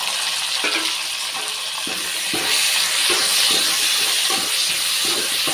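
Tomatoes and curry leaves sautéing in a pan for a vegetable kurma, a loud close continuous sizzle and hiss with occasional stirring scrapes under it.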